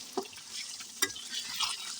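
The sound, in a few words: egg frying with salt and turmeric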